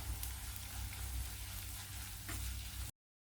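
Onions sauté in a pan with salt and turmeric powder, giving a close, even sizzle and crackle that runs steadily for about three seconds and then cuts off abruptly.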